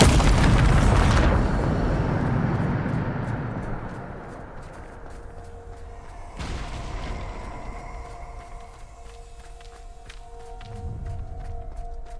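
A Bombarda spell explosion in the video game Hogwarts Legacy opens with a loud, heavy blast that rolls off into a long, rumbling decay. A second, softer burst and some debris rattle follow later.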